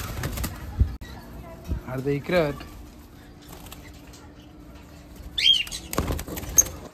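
Pet pigeons kept at home coo softly, and a few brief bursts of flapping wings break through as someone talks nearby in the foreground.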